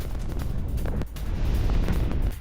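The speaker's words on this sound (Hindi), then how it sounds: "सेम शॉट से न्यू मॉस्को में 6 से ज्यादा धमाके हुए" Explosions from drone attacks on New Moscow in news footage: a rumbling, continuous roar of blasts with deep booms, one brief gap near the middle, then sustained thunderous noise.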